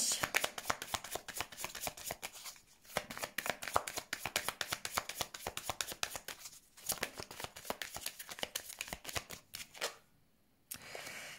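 Lenormand cards are shuffled up close in rapid, crisp riffling flutters that run almost continuously, with a short pause near the end.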